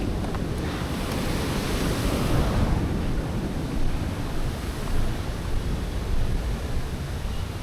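Forceful water rushes from a sluice at Thirumoorthy dam near Udumalpet, a steady, loud broadband roar with gusty wind buffeting the microphone and no voices.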